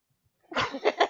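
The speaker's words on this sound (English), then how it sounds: "I'm trying real hard not to sneeze right now." A single sneeze bursts out abruptly after a short silence, close and fairly loud, ending in a couple of quick breathy tails.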